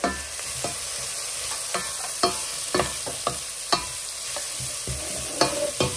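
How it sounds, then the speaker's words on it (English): Vegetables sizzling in a pan for a Greek vegetarian omelette, a soft steady frying hiss broken by sharp intermittent spoon scrapes and clicks as they are stirred, close and without talk. "nice little bit of a sizzle, which is fine"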